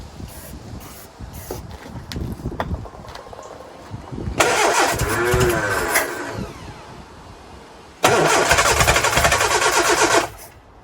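A Lotus Twin Cam engine fitted with new electronic ignition, running as if starved of fuel, cranks and catches in two loud bursts of revving separated by quieter clicks and fiddling, each burst lasting a couple of seconds.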